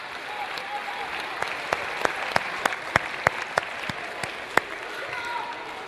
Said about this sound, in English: Let's give our 7-year people and 6-year people a big round of applause